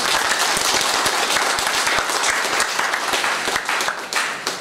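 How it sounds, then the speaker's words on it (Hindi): An audience at a public event in Jashpur breaks into loud, sustained applause, a dense wash of many hands clapping that fades slightly toward the end. "मैं चाहता हूं कि ऐसे महान विभूति के लिए जशपुर की जनता एक बार जोरदार ताली।"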